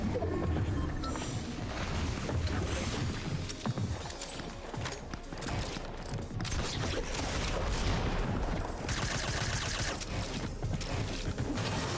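Dense, continuous gunfire and explosions from a battle-royale shooter game, with sharp bursts and booms layered over a busy, loud mix of game effects throughout.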